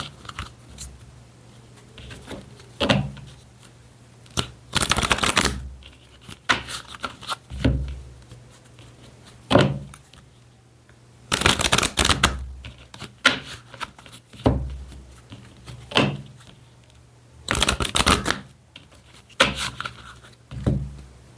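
A deck of tarot-style cards for Maria Padilha being shuffled by hand, repeated riffling and slapping bursts recurring every few seconds under a low steady hum, close up, with no talking.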